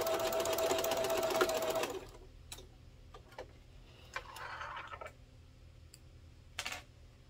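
A sewing machine backstitches a seam on a fabric car trash can, a loud, fast whirring burst for about two seconds, followed by sparse clicks and small handling taps as the work is adjusted.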